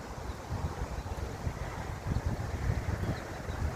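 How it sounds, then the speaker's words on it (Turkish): Wind blowing outdoors along a seaside path at Gökova, a continuous rushing buffet against the microphone with gusty rumbling swells and no speech. "Hava da çok güzel esiyor."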